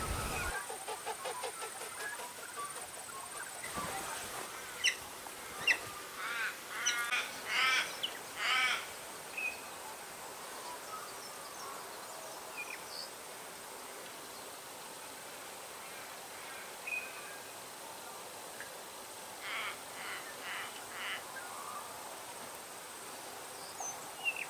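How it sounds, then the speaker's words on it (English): Birds call sporadically across a quiet valley, with crow-like caws and scattered chirps rising at intervals over faint outdoor ambience, mostly distant and moderate in level. "It's a marvellous area for birds here"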